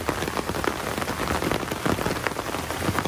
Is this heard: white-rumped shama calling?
no